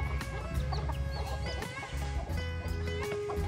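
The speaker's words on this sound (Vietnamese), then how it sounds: "Kìa, mấy con gà mấy mẹ đang ở đây ăn rồi." Chickens cluck steadily while feeding at a trough in a Vietnamese farmyard, with overlapping clucks throughout and other background animal sounds.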